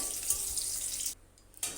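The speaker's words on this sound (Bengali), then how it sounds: "তো প্রথমেই আমি মরিচটা ভেজে নেব ভালোভাবে" Dried red chillies fry in oil in a pan, giving a soft, steady sizzle that drops out briefly and then returns. The sound is fairly quiet and close, with no talking.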